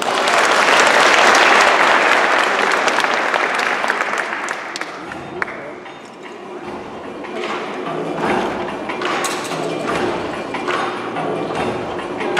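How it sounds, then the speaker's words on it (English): An audience at a 2015 Asian heritage street celebration applauds performers after a Vietnamese song, loud dense clapping that gradually thins into scattered claps and a few voices toward the end. "Please give them a warm round of applause"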